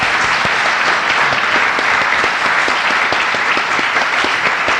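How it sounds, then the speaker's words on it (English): Audience at a literary talk with an author gives sustained, dense applause, a steady wall of many hands clapping throughout, loud and close, with no speech over it. "I think you deserve an applause"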